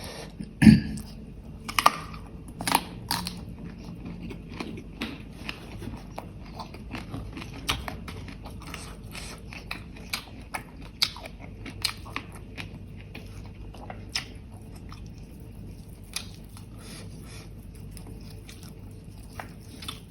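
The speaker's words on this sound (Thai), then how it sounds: "มะเขือนี่ก็กรอบดีพี่น้อง" Raw eggplant bitten and crunched up close during a spicy green chilli mukbang, with a loud snap near the start and then a long run of moist, crisp chewing clicks and crunches. No voices.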